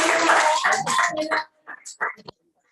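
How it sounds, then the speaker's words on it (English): Audience applause at an award ceremony, a dense burst of clapping that tapers off into a few scattered claps, heard alone. "A very big round of applause."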